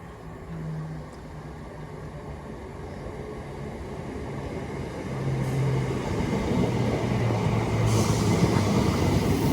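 A class 319 electric train rumbles into Rainhill station bound for Liverpool Lime Street, a steady rolling roar that grows louder as it nears, with brief low brake squeals and no voices.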